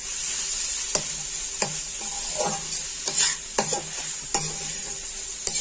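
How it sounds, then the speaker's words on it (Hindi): Bitter gourd and soaked chana dal frying in a pan, a steady sizzle broken by repeated sharp clacks and scrapes of a spoon stirring, close up and with no voices. "थोड़ी देर के लिए इसको फ्राई करूंगी"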